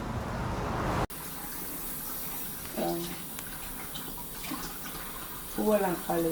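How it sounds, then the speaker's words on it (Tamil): Tap water runs steadily while flowers are rinsed for a Saraswati Puja offering, a continuous wash with brief splashes and light handling noises, fairly close and moderate in level. "பூவெல்லாம் கழுவி எல்லா பூவையும் கழுவி எடுக்கிறேன்."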